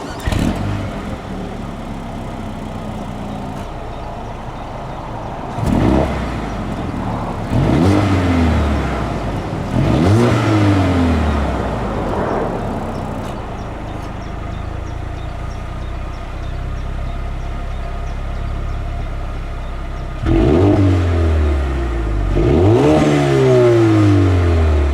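A 2019 Mercedes-AMG A35 with its valve-controlled AMG sports exhaust revs repeatedly while parked, with sharp blips rising and falling in bursts separated by idle, loud and close.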